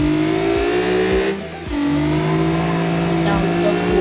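A car engine revs and shifts in a video game, the pitch dropping briefly before climbing again. A voice speaks over it.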